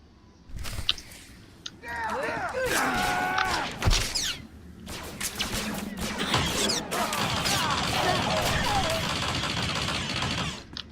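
Gunfire in a fight in Star Wars: The Old Republic video game, blaster shots and impacts coming in clusters, with a voice speaking between bursts and a busy mix of combat effects.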